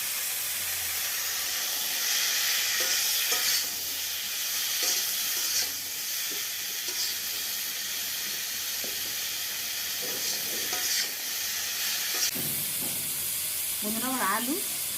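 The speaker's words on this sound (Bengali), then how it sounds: "বন্ধুরা আমার আলু আর ফুলকপি ভাজা হয়ে গেছে" Potatoes and cauliflower fry in oil in a home kitchen, giving a steady close sizzle and hiss with occasional stirring scrapes, and a voice is heard briefly near the end.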